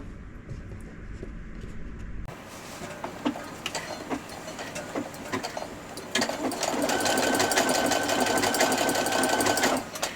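A sewing machine stitches with a G overcasting foot, running in quick bursts of rapid mechanical whirring and clatter, close by, then settling into a longer continuous run.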